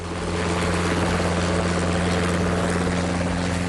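A homemade helicopter runs with a steady, loud mechanical drone, a low engine hum and whirring rotor, continuous throughout with no pauses or voices.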